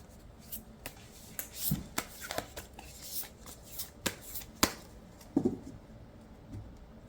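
Tarot cards being shuffled and drawn, with soft riffles, slaps and flicks coming in irregular bursts, close and fairly quiet, with no voices.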